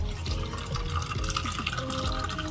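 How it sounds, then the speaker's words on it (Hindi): Water sloshing and splashing as a container is emptied and refilled in a home kitchen, with dripping and gurgling throughout, close and moderately loud. "अब इसका पानी फेंक के अब नया पानी लेना है"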